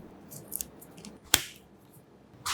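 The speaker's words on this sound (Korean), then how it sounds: "오징어채는 길이가 긴 것은 한번 잘라 넣어주세요" Scissors make one crisp, close snip through long strips of dried shredded squid in a quiet kitchen, with a few faint clicks before and after.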